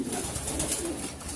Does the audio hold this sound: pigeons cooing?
yes